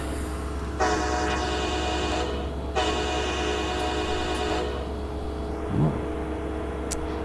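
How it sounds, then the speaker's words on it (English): Two long, loud blasts of a locomotive air horn in Train Simulator Classic on the North Jersey Shore and Morristown lines, each lasting a couple of seconds, over a steady low engine rumble, followed by a brief faint clank. "I do like the air horn here. It's actually different."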